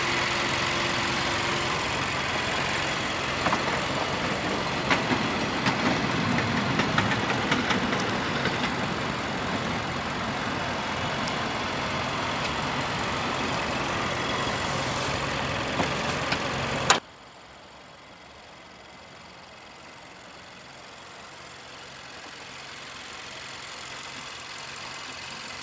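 A Nissan Juke Nismo's 1.6-liter turbocharged inline-four with 16 valves idles steadily after start-up, a close, even engine drone that cuts off abruptly partway through and leaves quiet low background noise.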